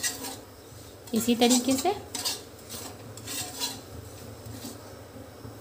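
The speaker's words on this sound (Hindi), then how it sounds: "अब हम इसे 1 मिनट तक भूज लेंगे।" A spoon scrapes and clinks against a kadhai while rusk barfi mixture is roasted, with a brief cluster of louder metallic stirring knocks, then softer scraping as someone speaks briefly in Hindi.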